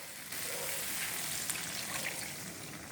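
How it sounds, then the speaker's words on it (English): Water poured into a wok of chicken biryani, a steady close hiss and splash running for most of the moment without pause. "So now I'm gonna be adding a bit more water"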